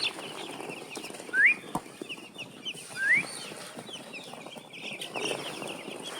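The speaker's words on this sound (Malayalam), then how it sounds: "ഇത് എത്ര ദിവസമായിട്ടുണ്ടോ ഈ കോഴി കുഞ്ഞുങ്ങൾ?" Day-old chicken chicks give a few high, rising peeps, two clearer ones about two seconds apart and a fainter one later. They sound against a low, rustling background, with no talk.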